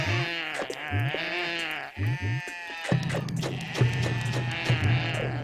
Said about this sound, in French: ces créatures, donc qui sont des mips, c'est-à-dire des moutons unijambistes